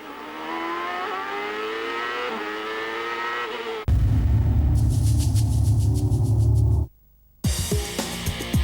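CART race cars at the 1998 Vancouver round scream past with high rising and falling engine whines, then a loud close pass, a brief cut to silence and more revving, all without talk.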